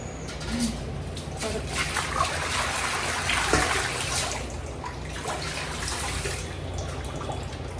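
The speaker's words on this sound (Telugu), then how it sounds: "బిందెలో అయితే వాటర్ అయితే పట్టేస్తా" Water gushes from a tap into a metal pot, a steady, close, splashing rush that runs without a break for the whole stretch.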